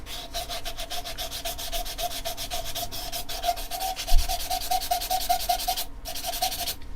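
A small turned wooden flower cut from scrap wood is hand sanded off the lathe, giving a steady, rapid rhythmic rubbing of abrasive on wood, close and continuous, with no talking.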